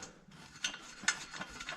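Ratchet wrench threading a bolt during a radiator relocation install on a 2021 Can-Am Renegade XMR ATV, a few quiet, brief clicking bursts close by with no talk.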